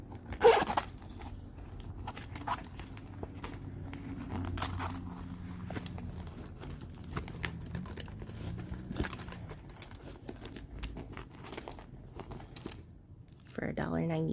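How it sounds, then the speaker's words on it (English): A zipper on a resealable Cinnamon Toast Crunch cereal pouch rasps in a few short bursts, with brief crinkles of the pouch between them and a voice talking in places. "The milk might leak out of the zipper though."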